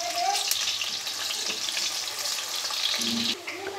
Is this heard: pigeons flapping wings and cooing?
no